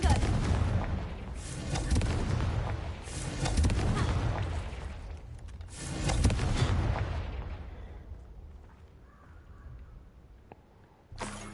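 Confringo explosion spells cast in Hogwarts Legacy, several loud booming blasts in a row, each followed by a rumbling decay that fades into quiet.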